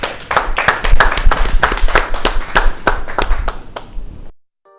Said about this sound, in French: On va juste les applaudir pour leur prestation